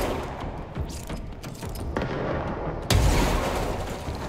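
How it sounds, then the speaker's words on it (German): A grenade explosion in the video game Control: a sudden loud boom about three seconds in, preceded by scattered faint game noise and followed by a rumbling tail. "Eine Granate."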